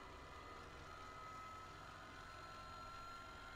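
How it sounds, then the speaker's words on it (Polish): Steady drone of a helicopter mod in Farming Simulator 19 as it hovers, a continuous engine and rotor hum at constant low level with a faint tonal whine and no talk. "Oczywiście to jest helikopter."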